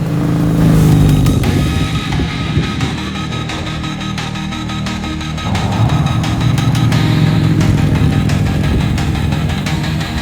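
A Harley-Davidson Street Glide motorcycle rides along a road during a road test after wheel and tire installation, its engine droning steadily with wind noise and a steady pull. No one speaks.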